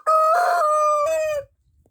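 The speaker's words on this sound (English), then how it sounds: "we're gonna crow as well, little man." Rhode Island Red rooster crows once up close, a loud, drawn-out cock-a-doodle-doo of about a second and a half that rises and then trails off into quiet.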